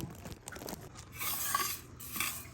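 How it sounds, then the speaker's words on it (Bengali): Roughly 400 grams of mung dal being stirred and dry-roasted in a pan, giving a soft continuous scraping and rustling with light clinks of a utensil against the metal, close and fairly quiet. "এই ডালটাকে এখন আমি ভালোভাবে ভেজে নেব"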